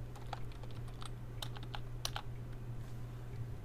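Keys on a computer keyboard clack in an irregular run of close, crisp taps over a steady low hum, with no voice.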